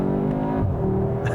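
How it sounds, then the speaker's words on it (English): A 2022 Audi A3 sport sedan gives a short run of low exhaust burble with faint crackle, a steady engine drone close by that shifts slightly midway, with no talking. "there's a little bit of burbles and crackles from the exhaust, just a little bit"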